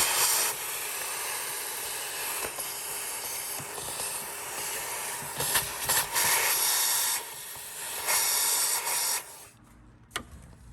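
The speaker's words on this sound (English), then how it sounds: "use a little bit of compressed air just to kind of blow out any debris" Compressed air blasts through the drain tube of a Porsche 911 convertible top, blowing out debris in a loud, close, continuous hiss that surges in a few stronger bursts before cutting off near the end.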